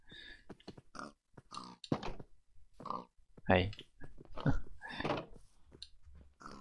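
Pig in Minecraft giving a few short grunts and oinks amid scattered game thumps, mixed with people talking close to the microphone.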